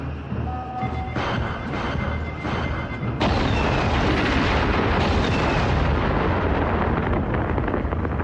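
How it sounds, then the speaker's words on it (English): Explosions from the 1994 action film A.P.E.X, a loud, dense roar of blasts and rumbling booms that surges sharply partway through and keeps thundering without letup. "but first, lots and lots of explosions"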